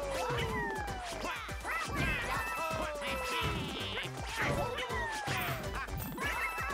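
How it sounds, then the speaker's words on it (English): Ground pound smashes in Mario Party Superstars: repeated cartoonish thwacks and crashes with bright game effects and squeaky character cries, busy and continuous over music. "Oh, we can ground pound. I'm smashing some men."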